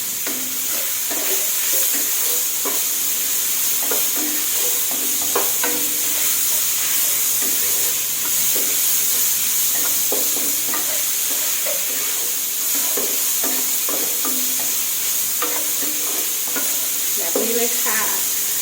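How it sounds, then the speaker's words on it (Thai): Vegetables stir-fried in a wok before minced pork goes in, for wide rice noodles in gravy. There is a continuous loud sizzle with repeated scraping stirs of the spatula and no talking. "เราก็เลยเลือกจะผัดผักพวกนี้ก่อนให้มันนุ่มนะคะ"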